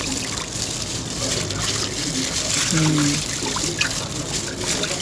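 A whole mackerel rinsed under running tap water while its gills are cleaned of sand, giving a steady trickling splash with small watery gurgles, as a voice talks faintly nearby.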